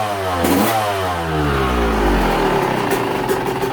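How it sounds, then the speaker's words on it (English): A motorcycle engine warming up, loud and close, rising in pitch as the throttle is blipped and revved, then settling and wavering around a rough idle. "normally I pause the video while I'm warming up a bike"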